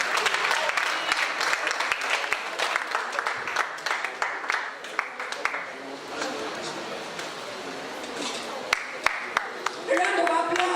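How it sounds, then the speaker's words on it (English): Audience applause at a student conference of English and literary studies, a dense patter of clapping that swells and thins over several seconds, with voices talking through it and a sharper burst near the end. "A round of applause."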